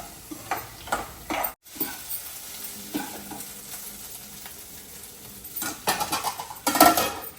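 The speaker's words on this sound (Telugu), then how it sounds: "ఒక గరిటెతో తిప్పేసి అప్పుడు దొండకాయలు వేసి." A ladle stirs ivy gourd fry in a pan, giving a steady sizzle with scraping and clinking strokes that get louder and busier toward the end, close by and without talk.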